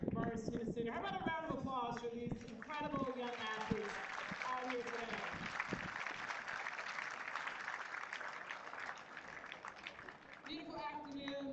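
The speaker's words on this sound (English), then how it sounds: "How about a round of applause for these incredible young athletes?" After a voice speaks over a PA, the audience at the girls' 18s USTA national tennis championship at Morris Tennis Center breaks into sustained applause that gradually fades.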